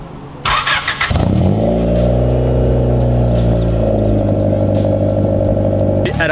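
A Honda Civic EG hatchback fitted with a Wish catback exhaust fires up with a brief starter clatter, then settles into a steady, fairly quiet idle burble with a low, even hum.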